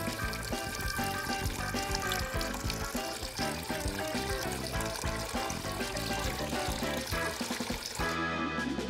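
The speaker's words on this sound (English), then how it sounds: "Speaking of water, we need to fill our wonder aquarium." Water pours steadily into a DIY aquarium, a continuous loud splashing trickle close by that stops abruptly near the end.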